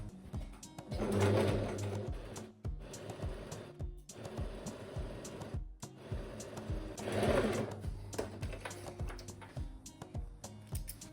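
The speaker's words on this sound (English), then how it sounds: "I will sew along the hem with a seam allowance of 1 centimeter" Electric sewing machine stitching along a dress hem, running in several bursts of rapid mechanical whirring with brief pauses between runs, close and fairly quiet.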